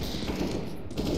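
Rifle fire in Counter-Strike: Global Offensive rattles out in fast, loud, close bursts, the shots running together into a continuous rapid volley.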